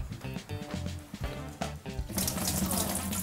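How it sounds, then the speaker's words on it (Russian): Vinegar water is poured out of onions being rinsed at a kitchen sink, a gurgling splash that swells into a loud rushing stream in the last second, after a stretch of faint clattering and running water. "Я выливаю воду,"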